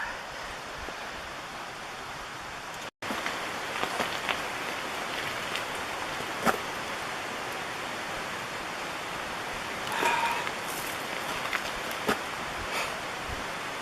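Steady rain patters softly on leaves and ground in woods in Sitka, Alaska, a continuous hiss broken by occasional louder drips and taps nearby.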